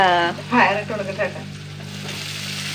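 Beans and fried chili flakes sizzle in a hot pan, a steady close frying hiss with a burst of crackle early on that eases into a softer, even sizzle.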